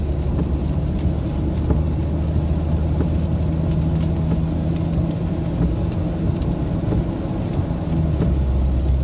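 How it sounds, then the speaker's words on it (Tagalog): Heavy rain drums steadily on a car while it sits stopped at a stoplight, a dense, even hiss over a low idling rumble from inside the cabin, with scattered sharper drop hits. "lakas ng ulan, no?"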